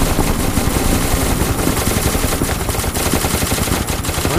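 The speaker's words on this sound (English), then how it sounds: "I'm hearing gunfire" Sustained rapid gunfire crackles in the horror game SCP Containment Breach, dense and loud bursts overlapping continuously with no voices.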